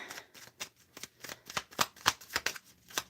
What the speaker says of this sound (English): Let's pull some cards on it